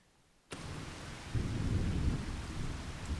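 Rain and thunder in the Farming Simulator 25 farming game start abruptly, a steady hiss of rainfall that soon swells with a low rumbling roll of thunder underneath.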